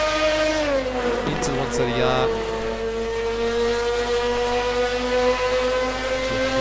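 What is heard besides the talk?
Ferrari 488 GT3 Evo engine screaming, from racing video game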